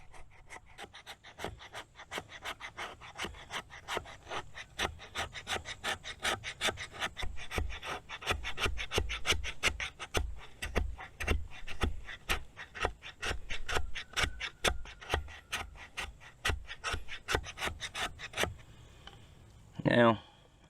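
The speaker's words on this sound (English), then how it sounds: "let's take this thing down and see if it'll just do some little shavings or curls." A Cold Steel Finn Wolf knife, its sharp 90-degree spine drawn over wood to raise thin shavings and curls: rapid, evenly spaced scraping strokes, close and crisp, continuing in a steady rhythm before stopping near the end.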